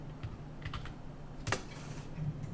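Soft typing on a computer keyboard while searching a card collection in Hearthstone, a few scattered faint key taps with one sharper click midway, quiet and close with no talk.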